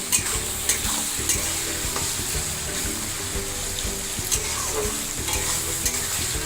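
Onions frying in a pan for a Bengali-style snake gourd and egg dish, sizzling steadily while a spatula stirs and scrapes them in repeated clicks and knocks, close and continuous, with no talk.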